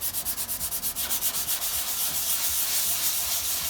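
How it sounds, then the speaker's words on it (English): Light hand sanding with 120 grit sandpaper on a 1968 car's stone-chip coating, fast rhythmic rubbing strokes that blend into a steady close scratchy hiss. "all I'm really doing is just literally a little bit of light sanding with some 120"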